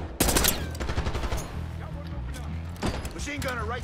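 Machine gun fire rattles in rapid bursts during a Call of Duty Black Ops 6 campaign firefight, loud and close at the start and again near the end, with lighter shots and battle noise in between and voices shouting over it.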